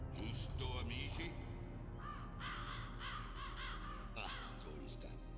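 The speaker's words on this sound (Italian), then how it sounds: "I corvi non sono degli spazzini." Crows caw repeatedly in the Metal Gear Solid (1998) video game, harsh calls recurring in bursts over a steady ambient game soundtrack, with a voice speaking briefly among them.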